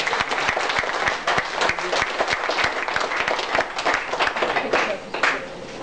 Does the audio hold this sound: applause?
yes